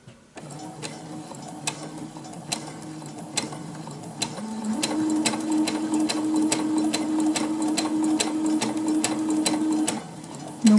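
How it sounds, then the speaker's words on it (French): A sewing machine stitching a T-shirt neckline hums steadily close by with a regular ticking needle rhythm, picking up speed partway through and stopping near the end, with no talking. "Et donc là je suis prête à coudre."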